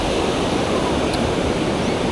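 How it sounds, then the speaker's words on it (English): Rough surf at a Jacksonville, Florida beach roars as a continuous, loud wash of breaking waves, dense and unbroken, with wind buffeting the microphone and no voices. "These waves are breaking pretty crazy."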